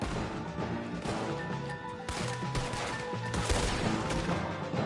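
Dense, continuous video game gunfire from Red Dead Redemption 2 with crashing impacts, a busy layered battle soundscape with music-like tones underneath, no pauses.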